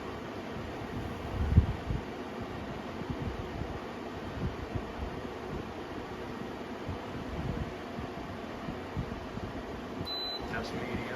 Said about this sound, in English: And I'll turn to fan mode so you can see what it sounds like without the compressor.